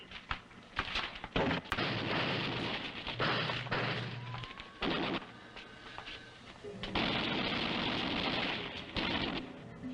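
Gunfire rings out in the 1958 film The Robot vs The Aztec Mummy, a burst of sharp shots and thuds spread over several seconds amid louder film noise and scattered voices.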